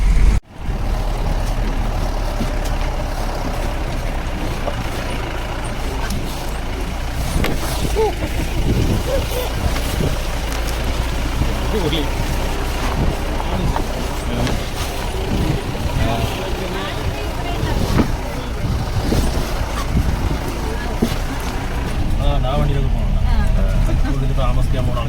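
A 4x4 vehicle drives off-road on the Mattumala trail at Nelliyampathy, its engine a steady rumble with jolts and bumps over rough ground, running continuously under people talking.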